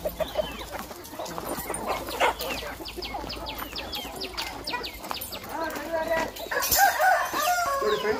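Native country chickens at a chicken farm crowing and clucking repeatedly, several birds calling near and far in overlapping bursts, with a dog also heard against the outdoor background.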